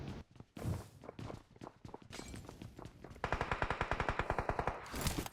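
Gunfire in a battle royale shooter, with bursts of single shots followed by a long rapid automatic burst, sharp and fairly close, over game background sound and no talk.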